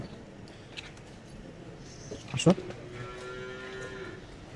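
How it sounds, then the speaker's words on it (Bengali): Large Australian cows at a cattle market ahead of Qurbani give one loud, low moo midway, set against steady market background noise. "দেখতে পাচ্ছেন বিশাল বড় বড় গুলা গাভি অস্ট্রেলিয়ান গাভি"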